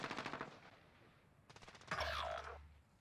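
Rapid automatic gunfire in a video game shooter match, two quick bursts of rattling shots, the second followed by a louder crackling blast, fairly quiet overall.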